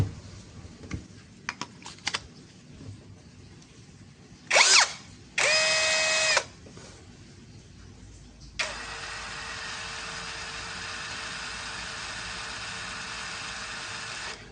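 A Corolla 16V brushless cordless drill driver clicks a few times, then whirs in two short bursts and finally runs in one long, steady high-pitched whine, close and alone.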